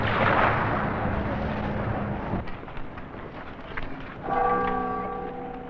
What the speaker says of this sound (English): The riotous Dragon Boat Festivals, a pandemonium of firecrackers,